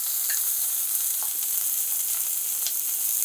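Chopped onions sizzle and crackle in hot oil in a pan, a close, steady fry for making a masala egg omelette, with light stirring clicks now and then and no talking.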